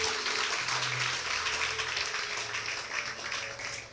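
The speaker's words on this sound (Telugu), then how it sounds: "గట్టిగా చప్పట్లు కొడదామండి" Congregation clapping during a Telugu church service, a dense, steady wash of applause lasting a few seconds without a break.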